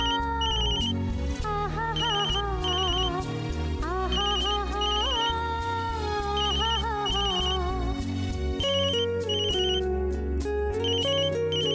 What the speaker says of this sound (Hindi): ये पंकज बार बार क्यों फोन कर रहा है आज?